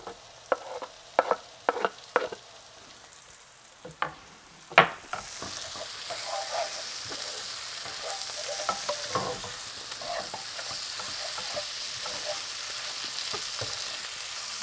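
Lamb heart added to frying onion in a pan: a series of sharp clatters and knocks as the pieces go in, then a steady close sizzle that grows and holds for the rest, with no talk.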